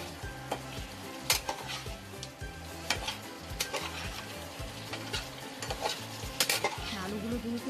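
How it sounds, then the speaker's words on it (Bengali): A spoon scrapes and knocks repeatedly through spiced potatoes for dum aloo in a cooking pan, rhythmic close stirring strokes over a soft sizzle, with occasional sharper clinks against the metal. "আবার একটু নাড়াচাড়া করে নিই"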